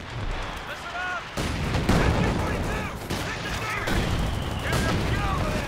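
Dense battlefield gunfire in Company of Heroes 2, a World War II strategy game, with steady bursts and booming shots layered over rumbling combat; radio-style voices talk over parts of it.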